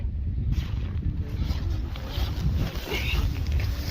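Strong wind gusting and buffeting outside a tent on the Gaumukh trek above Gangotri in the Himalaya, a loud continuous roar with low rumbling flaps, steady throughout.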